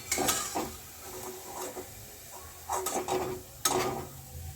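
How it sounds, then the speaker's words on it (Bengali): Gourd-leaf pakoras frying in a pan are turned with a utensil, giving a few irregular scraping, clinking stirs over a quiet, low sizzle, close by with no talking. "আর বারবার বারবার কিন্তু নাড়িয়ে দিতে হবে"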